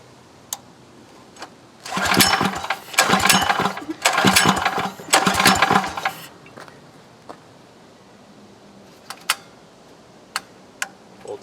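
Yerf Dog 3203 go-kart engine being pull-started by its cord: four quick, close bursts of cranking and sputtering that fail to catch, then quiet with scattered sharp clicks and taps.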